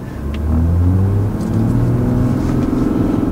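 A 2020 Toyota GR Supra's engine rumbles and revs steadily while driving, a loud, close, continuous drone with shifting pitch and no talking.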